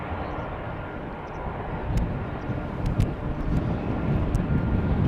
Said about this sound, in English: We are also seeing an Aer Lingus Airbus.